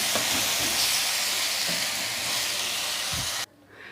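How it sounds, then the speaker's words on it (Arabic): Rice being stirred and tossed as it fries in a pot, a steady close sizzle with scraping stirs throughout that drops away abruptly near the end. "هبدا بقى اقلب الرز مع بعض، يعني اشوح الرز اللي انا لسه حطاه مع الرز المتحمر"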